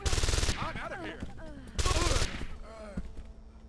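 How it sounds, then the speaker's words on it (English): Submachine gun fire in the video game Deus Ex: Invisible War, two loud rapid bursts of automatic shots, each about half a second, with a voice speaking between and after them. "Does nobody use their submachine gun two-handed?"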